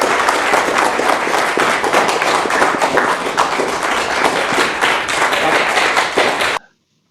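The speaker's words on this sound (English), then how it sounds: "Give them a big round of applause." A dense, steady burst of applause for a guest band at a music club meeting, loud and close for about six and a half seconds before cutting off abruptly into silence.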